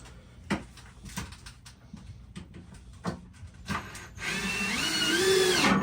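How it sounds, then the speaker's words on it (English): A power drill drives a screw into a generator shelf aboard a sailboat, with a few knocks and clunks before a steady whirring spin that rises in pitch, close and moderately loud. "Let me screw this in and I'll show you."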